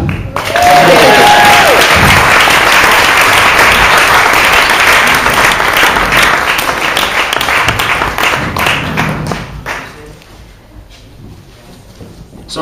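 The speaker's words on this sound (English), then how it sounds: "Clap!" Wedding guests applaud loudly in a reception hall, a dense burst of clapping rising quickly and holding for several seconds before tapering off as voices return.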